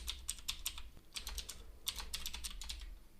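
Code being typed on a computer keyboard: quick clusters of crisp key clicks in short bursts with brief pauses, close and fairly quiet, with no one talking.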